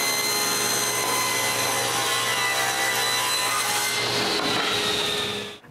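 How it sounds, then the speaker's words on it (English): A table saw cuts wood for a bathroom towel cabinet, making a loud, steady whirring rasp of blade through board that holds constant for several seconds and then cuts off, with nobody speaking. "The last side is cut on the table saw."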